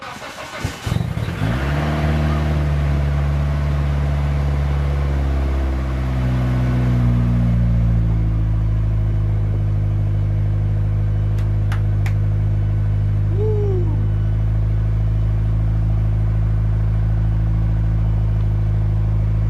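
A Mitsubishi Eclipse with a newly made mid exhaust cranks and fires, then settles into a loud, steady, close idle with a deep droning tone and a brief faint squeal near the end, no talking.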